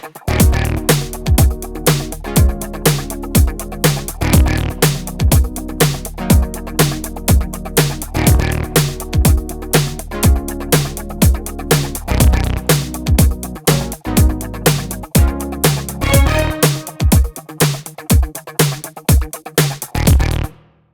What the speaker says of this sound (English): now I've added some synths here